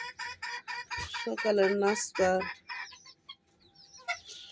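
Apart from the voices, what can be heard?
chickens clucking at morning feeding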